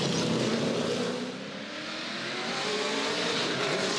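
Big 6-litre Ford GT race cars at full throttle in a GT1 race at Hamilton street circuit, a loud continuous engine roar with revving and passing cars, steady and close throughout.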